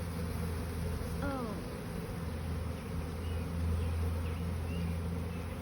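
Honeybees buzz in a dense, continuous drone while being brushed off a hive frame during grafting day, loud and close, with a brief human exclamation early on.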